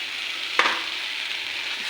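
Yogurt and cashew paste frying in a pan for capsicum paneer: a steady, close hiss of sizzling with one sharp scrape of a spoon early on, no voices.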